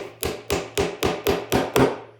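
Seven sharp, evenly spaced hammer blows strike a nail into wood, each a loud crack with a short ringing decay, steady rhythm, close by.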